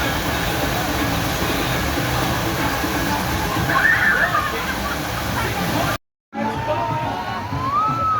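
Rushing water of the Congo River Rapids ride at Alton Towers in Katanga Canyon, a loud continuous roar and slosh of waterfalls, briefly cut to silence near the end before resuming.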